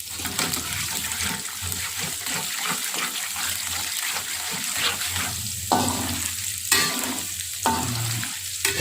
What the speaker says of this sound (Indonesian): Lalu kita tumis bawang putih yang udah kita cincang tadi ya.